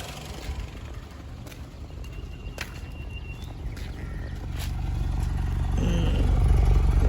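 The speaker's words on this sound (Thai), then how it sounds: "เดี๋ยวเราไปดู ฟังเสียงท่อกันนิดนึง" A 2014 Honda City running on CNG idles steadily, its exhaust rumbling low and growing slightly louder toward the end, with a few light clicks and clatters nearby; the car stutters when accelerating.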